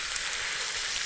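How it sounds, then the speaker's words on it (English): Aberdeen Angus sirloin steak sizzles in a Petromax frying pan at a wild camp in the rain, a steady close hiss of frying fat with no talk over it. "you ready for this sizzle in this lovely Petromax frying pan?"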